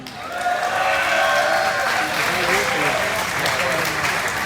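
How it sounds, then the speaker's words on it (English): Loud, dense applause from a graduation ceremony audience at the Mesivta of Waterbury in 2024, sustained and steady throughout with cheering voices mixed into the crowd noise. "The applause says it all."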